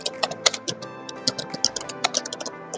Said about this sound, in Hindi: मेरी टाइपिंग थोड़ी स्लो है